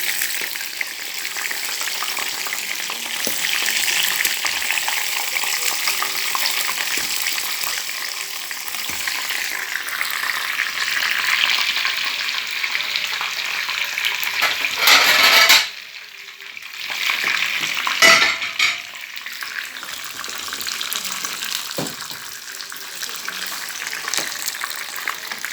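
Homemade KFC-style chicken pieces fry in hot oil, a dense continuous sizzle and crackle that swells and dips briefly, with a few stirring clatters and no voices.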